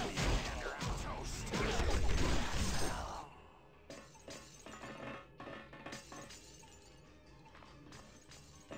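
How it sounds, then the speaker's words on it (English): Glass shattering in the video game X-Men Legends 2, a loud crashing break with scattering shards over the first three seconds, followed by quieter clinks and impacts, no talk. "What is that glass breaking?"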